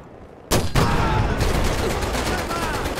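Loud, sharp gunfire in the VR video game Medal of Honor erupts after a brief quiet moment, two quick blasts followed by sustained dense rattling shots, close and harsh, with a faint voice underneath.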